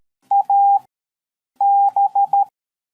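Clean steady electronic Morse code beeps at one pitch: a short dot and a long dash, a pause, then a long dash followed by a run of short dots, all alone.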